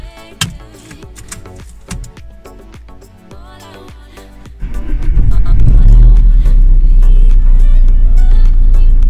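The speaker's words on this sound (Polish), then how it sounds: "No i próbujemy znowu, czy samochód odpali." An Opel Astra H or Zafira B cranks and its engine catches after about four and a half seconds, settling into a loud, steady idle with deep low rumble; clicks and taps sound before the start.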